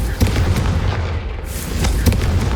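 A Confringo fire spell blasts in Hogwarts Legacy, heard as a string of booming, punchy bursts over a rumbling background, loud and close.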